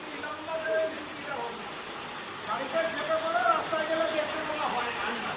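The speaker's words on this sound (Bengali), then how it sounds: "এই যে দেখো কি মশাল ধারা বৃষ্টি নেমেছে" A steady wash of heavy rain hisses in the background while people talk nearby.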